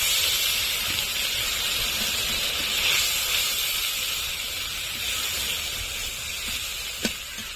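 Water hits a pan of frying ginger-garlic, cumin and dried red chilli paste for a Bengali ritha fish curry, giving a loud, sustained sizzling hiss that slowly eases, with one sharp clink near the end.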